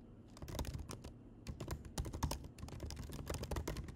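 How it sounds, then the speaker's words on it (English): Typing on a computer keyboard, dense close-up keystrokes clattering steadily throughout with only brief gaps, no speech. "you can simply type an idea"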